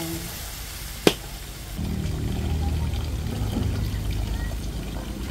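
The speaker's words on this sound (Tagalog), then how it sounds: "dagdagan lang po natin ng kaunti pa pong tubig" Water poured into a pot of chicken drumstick adobo cooking in a hut kitchen, a steady low pouring wash that starts after a brief sharp clink and runs on evenly without talk.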